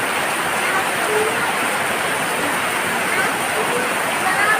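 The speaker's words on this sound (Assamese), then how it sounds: "পুৰা বৰষুণ, চব পুৰা বৰষুণ" Heavy rain pours down over a rural farm field in a steady, close hiss with dense pattering throughout and no pauses.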